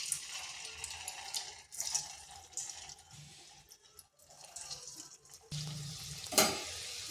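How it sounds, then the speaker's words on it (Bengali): Raw potato snacks drop into hot oil in a wok over slow-to-medium heat, giving a steady broadband sizzle and bubbling that rises and falls, then swells louder near the end with a sharp crackle. "এখানে তো কড়াই বসিয়েছি, তেল গরম হয়ে গেছে। এরপর এগুলো দিয়ে দিচ্ছি।"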